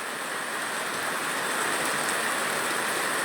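Steady, dense rain hisses evenly during a windy storm under dark skies at Neyyattinkara, Thiruvananthapuram, with no pauses or voices.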